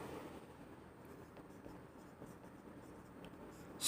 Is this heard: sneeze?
no